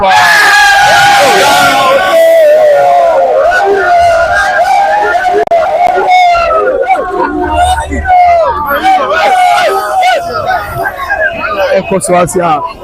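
Thousands of football fans in Kumasi roar and chant in a dense, loud crowd while watching Ghana play England, with yells and babble sustained throughout.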